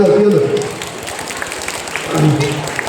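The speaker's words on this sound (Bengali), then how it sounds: "তোমরা হাততালি দাও" An audience claps at a high school farewell event, a loose patter of applause running through the clip under louder voices talking nearby.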